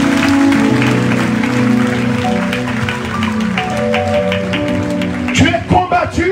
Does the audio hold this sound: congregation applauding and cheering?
yes